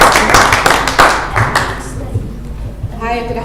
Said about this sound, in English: Could you give a round of applause?